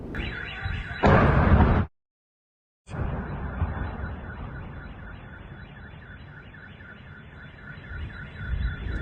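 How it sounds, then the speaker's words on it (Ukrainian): A loud, rough explosion at a Russian facility roars briefly and cuts to silence, then a car alarm wails in a steady repeating pattern. "оприлюднив у своєму телеграм-каналі відео моменту вибуху та пожежі на російському об'єкті"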